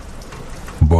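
Steady rain falls on a deserted muddy road at night, a dense continuous hiss, with a louder low rumbling burst near the end.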